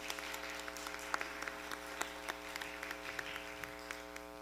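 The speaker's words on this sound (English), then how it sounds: "Please give her a round of applause." Applause from the audience at an abortion rights town hall, a steady wash of clapping with scattered sharper individual claps, moderately distant and fairly soft over a constant hum in the room, with a little faint talk.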